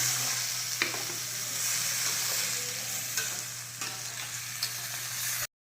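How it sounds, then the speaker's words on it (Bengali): Chopped tomatoes and spices sizzle steadily in a pan with cauliflower and potato, under a constant low hum, with occasional spatula scrapes and taps. "এবার দিয়ে দিলাম কুচনো টমেটো আর মশলা ধোয়া জলটা দিয়েও ভালো করে কষিয়ে নেব।"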